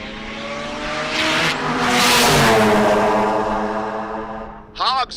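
Mazda RX-7 drag race car at the start of a run, its engine revving hard and roaring through a loud harmonic sweep that peaks and then fades, followed by a brief second burst of rising revs near the end.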